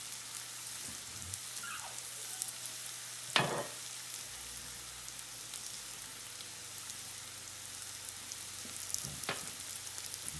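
Mushrooms frying in a pan for a mushroom Swiss burger give a steady soft sizzle, broken by a couple of sharp scraping stirs of the spoon against the pan, with no talking.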